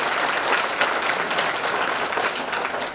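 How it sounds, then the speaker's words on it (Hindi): An audience at a spiritual talk claps loudly and steadily, a dense, even wash of hands throughout with no voices. "चलिए अपने लिए ताली बजाइए जोर से।"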